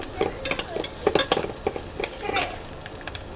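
Onions and green chillies frying with turmeric in a pan, a soft sizzle under a rapid, uneven run of scraping and tapping stirs from a utensil against the pan.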